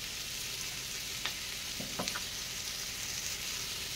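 Paneer chilli ingredients fry in a pan with a steady hiss of sizzling oil, and a few brief clinks and stirring knocks stand out near the middle.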